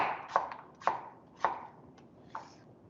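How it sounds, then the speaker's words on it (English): Knife slicing an apple into quarter- to half-centimetre slices, four crisp cutting strokes at an uneven pace, close and clear with nothing else audible. "We're going to slice this up into kind of larger, maybe what, a quarter centimeter"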